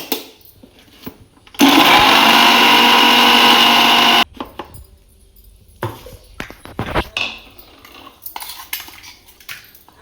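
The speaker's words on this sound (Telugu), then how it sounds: "ఇవన్నీ కచ్చా పిచ్చాగా మిక్సీ పట్టుకోవాలి." A mixer grinder whirs loudly in one short burst of a few seconds while coarsely grinding black-eyed pea lentils, then stops, followed by clattering and scraping of utensils.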